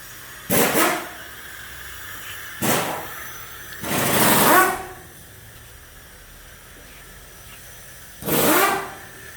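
A 7610 tractor with a freshly overhauled engine is started and left running, giving four loud revving bursts over a low idle hum.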